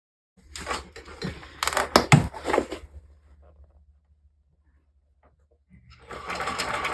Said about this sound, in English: I'm going to sew down one side.